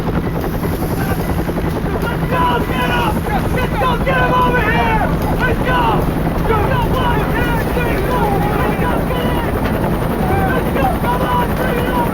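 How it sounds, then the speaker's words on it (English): Helicopters in a Vietnam War documentary, a loud, continuous rotor thump and engine roar throughout, with a narrator's voice running over it. "The men rushed to choppers parked on the old camp's landing zone."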